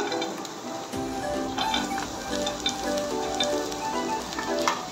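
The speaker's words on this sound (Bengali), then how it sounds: "দিয়ে দিলাম সাদা তেল, দিয়ে দিচ্ছি রসুন কুচি" Chopped garlic sizzles steadily in hot white oil in a pan, a close, continuous crackling fry with scattered sharp pops and no talk.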